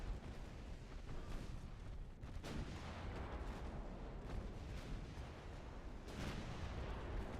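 Warship main guns boom in Ultimate Admiral Dreadnoughts, a dense, rumbling barrage of heavy artillery fire with repeated blasts rolling over one another at low volume.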